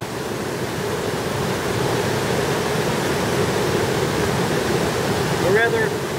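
A flowing stream gives a steady, loud rush of water that runs throughout, with a short whistle-like sound near the end.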